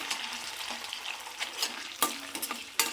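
Paneer pieces frying in hot oil in a pan, a crackling sizzle punctuated by a few sharp spatters and stirring scrapes, close and alone.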